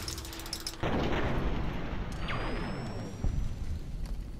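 Gunfire in the video game Fallout New Vegas: a sudden loud blast and a rumbling roar, then a second sharp shot a few seconds later. No one speaks.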